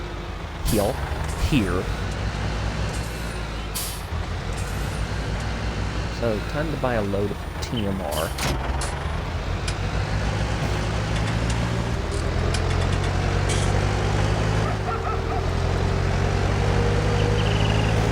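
Farming Simulator 19 game audio with a steady low engine drone from a small tractor, plus hissing air-brake bursts and clatter, continuing under frequent talk.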